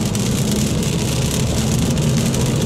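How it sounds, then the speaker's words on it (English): Steady, loud road noise fills the cabin of a 2024 Kia Forte GT on 18-inch wheels while driving, a constant broadband rumble and hiss with no breaks. "You're gonna hear a significant amount of road noise coming in."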